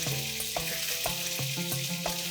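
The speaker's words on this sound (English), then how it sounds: "Let's saute this till the raw smell of the ginger garlic is gone." Ginger and garlic paste sautéing in hot oil for a mutton dish, a loud continuous sizzle with regular stirring scrapes and clinks about every half second, no talking.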